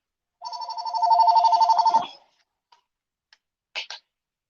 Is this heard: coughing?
no